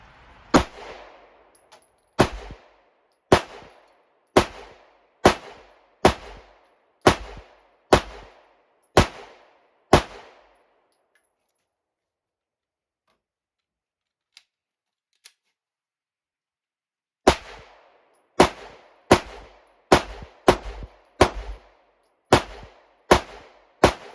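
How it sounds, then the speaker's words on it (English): Twenty pistol shots from a Smith & Wesson SW9VE/SD9VE 9mm fitted with an Apex spring kit, fired at a target about 5 yards away: a sharp, loud, evenly spaced string of reports, a quiet pause, then another steady string. "I'm going to go ahead and shoot my first magazine out of this and see how I do"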